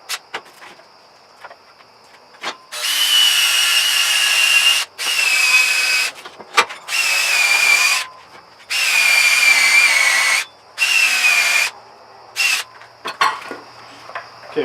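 A wire wheel on a power tool grinds powder-coated metal on a post hole digger being repaired, running in several loud, sustained bursts of a few seconds each, separated by short pauses, with no talk over it.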